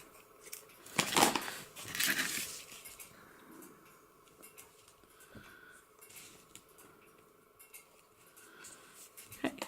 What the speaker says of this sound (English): Need to get some decent scissors.